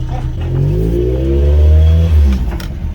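A car rolls along in first gear while its brakes are tested, its engine note rising and holding steady at close range for a few seconds before easing off as it slows.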